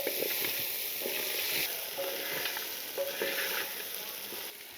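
Crabs coated in chili powder and spices fry in a pan for Andhra-style crab biryani, giving a steady close sizzle with soft bursts of stirring throughout.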